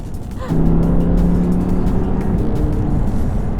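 A 2019 Audi R8 facelift engine hums loudly and steadily from inside the cabin while driving, swelling briefly at first, then settling into a deep, even drone.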